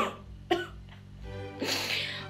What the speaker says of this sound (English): I just got this really bad cough at the moment.